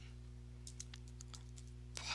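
Quiet keystrokes on a computer keyboard as a terminal command is entered, a short run of soft separate clicks over steady electrical hum, ending in a slightly louder tap.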